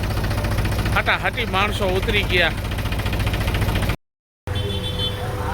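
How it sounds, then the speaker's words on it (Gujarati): A tractor engine idles steadily and close by throughout, a low even drone with a brief cut near the end, while people talk over it. "આપણું ટ્રેક્ટર આવી ગયું છે"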